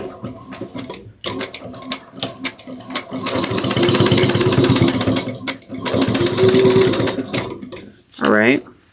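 A sewing machine top stitches a fabric sling pack in rapid bursts, its fast mechanical rattle running for a few seconds at a time with pauses between, and a brief voice near the end.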